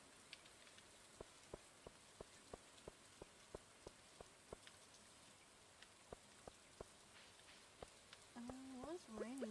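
Rain from the video game Stardew Valley Expanded, a faint steady patter with distinct single drops ticking at irregular intervals, and a voice starts speaking near the end.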